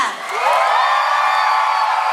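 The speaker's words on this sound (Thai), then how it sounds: "ตอนนี้ขอเสียงกรี๊ดเป็นกำลังใจกับทุกท่านก่อนค่ะ" A hall audience at The Face Season 13 results show screaming and cheering, a loud sustained wall of high-pitched shrieks and whoops swelling up quickly and holding throughout.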